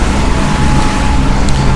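Both engines of the sailboat Sawasdeekat drone at 2,000 RPM while motoring through lumpy seas off Albania: a loud, steady, low engine rumble with wind and water noise and no pauses.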